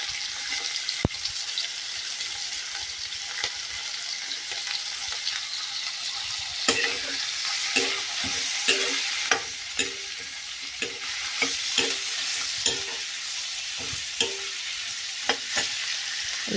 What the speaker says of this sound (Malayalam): ഇതിൽ വെള്ളം ഒന്ന് വലിയണവരെ ആദ്യം ഉള്ളി അത് ഇടും, മുളക് ഇടുക, പിന്നെ ഇഞ്ചി,